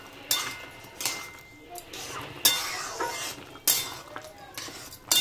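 A metal lid is lifted and set about on a pot of taro stolon curry cooked with fish, giving several sharp clanks and clinks spaced a second or so apart, fairly close and loud.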